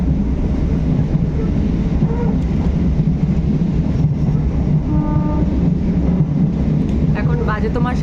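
Local train running between stations in the evening, a loud steady rumble of wheels and carriage rattle with clattering bursts and a few tonal squeals, while someone talks over it.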